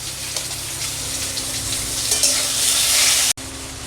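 Potatoes frying in oil with salt and turmeric, a loud close sizzle that swells toward the end before a brief cut, with light stirring scrapes.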